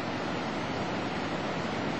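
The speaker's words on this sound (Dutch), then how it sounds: "Zie je wat een grote golven?" Continuous roaring wash of rough water and surf from the 2004 tsunami in Krabi, Thailand, loud and unbroken, with wind rumbling over the microphone.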